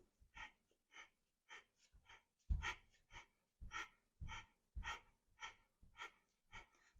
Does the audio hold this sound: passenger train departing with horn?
no